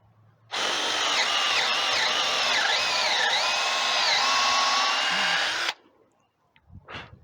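A Ryobi P215 18V cordless drill bores through wood with a loud, steady whine lasting about five seconds, its pitch sagging under load before it stops, followed by faint handling noises.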